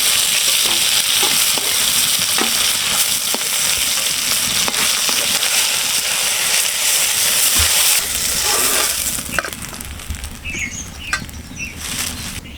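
Pieces of pona fish sizzle and spit in hot oil in a kadai, a loud, steady crackling hiss that eases slightly toward the end, with a few light utensil clinks.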